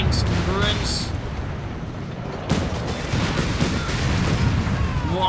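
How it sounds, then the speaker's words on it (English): Tank battle in Company of Heroes 3, German armor being blasted apart among ruins: a dense, continuous rumble of explosions and gunfire with a sharp blast midway, under a commentator's voice. "German armor being blasted apart here. Massive tank battle here of tiny tanks and ruins."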